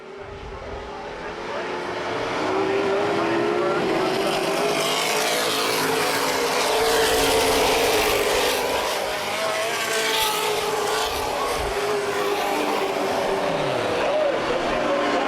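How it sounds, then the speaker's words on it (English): Late model race cars roar around Baer Field Speedway in a feature race, a loud continuous engine drone swelling as the pack passes close, with a commentator talking over it. "Back to green flag racing at Barefield Speedway with the NAPA late models."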